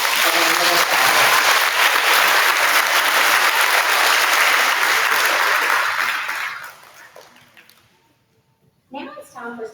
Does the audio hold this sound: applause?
yes